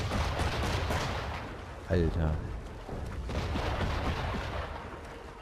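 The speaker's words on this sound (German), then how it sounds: "Nicht, dass die gleich ihre Kanone auf mich ballern" Cannon fire in the video game Assassin's Creed 3: a booming shot lands near the middle, under ongoing game ambience and a voice speaking briefly over it.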